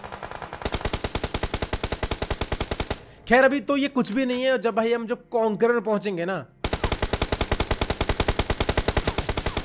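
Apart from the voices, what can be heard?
gunfire in the video game BGMI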